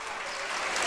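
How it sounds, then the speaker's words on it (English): Volleyball fans cheering during a high school boys match between Saegertown and Meadville, a broad, steady crowd roar from across the gym that swells slightly toward the end of the moment. "Meadville fans cheering across the way."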